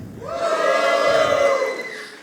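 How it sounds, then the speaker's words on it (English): Men in a live science slam audience cheer in unison, a loud, lower-pitched sustained shout from the crowd that rises, holds for about two seconds and tapers off. "Now all the men in the house, give me a cheer."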